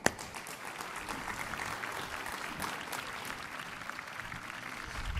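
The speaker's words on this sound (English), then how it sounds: "So please join me in welcoming Gilad to the stage." Audience applause fills a conference hall as a speaker is welcomed to the stage, a steady even patter of many hands clapping at moderate distance, starting with one sharp clap and holding level throughout.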